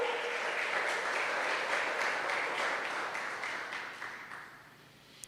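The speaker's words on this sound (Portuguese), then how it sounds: "Aplauda ao Senhor mais uma vez." A church congregation applauds during a Portuguese-language sermon, giving a dense wash of clapping that holds steady and then fades away over about five seconds.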